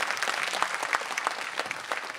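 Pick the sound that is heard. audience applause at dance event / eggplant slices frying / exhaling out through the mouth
audience applause at dance event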